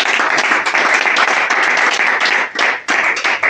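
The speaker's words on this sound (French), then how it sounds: "Ça s'applaudit les amis." Crowd clapping loudly at the official opening of a youth organisation's headquarters in Bouaké, close and energetic, a dense burst of hand claps with brief dips before resuming strongly.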